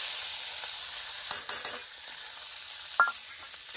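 Small mourola fish coated with salt and turmeric fry in hot oil, a continuous bright sizzle with a few soft stirring clicks and spatters, close and alone.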